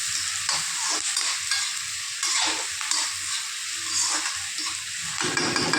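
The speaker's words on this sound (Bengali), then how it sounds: "পেঁয়াজটাকে আমি একটু লাল লাল করে ভেজে নেবো" Onions fry in a pan with a steady, fairly loud sizzle while being stirred, the scraping and shuffling strokes recurring throughout, with no talking.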